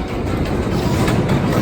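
The GhostRider roller coaster rumbles along its track as a loud, continuous roar with a faint clatter, close by and steady, with no voices.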